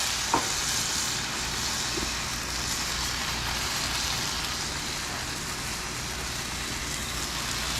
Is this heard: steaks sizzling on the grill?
yes